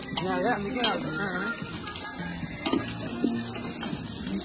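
Onions frying and starting to burn in a pot over an outdoor picnic fire, a faint sizzle with occasional stirring knocks while people talk nearby.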